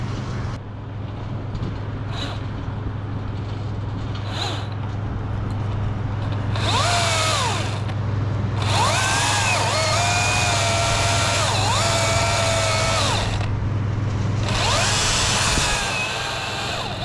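A wood chipper chews through tree branches during a tree removal job, roaring in loud bursts over a steady engine drone, with quieter gaps between the feeds.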